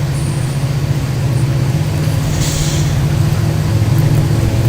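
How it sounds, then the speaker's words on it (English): Two diesel locomotives hauling the UP 844 train up Cajon Pass near the summit in a train simulator, a loud steady low engine drone and rumble with a constant hum, no talk. "There's the two diesels."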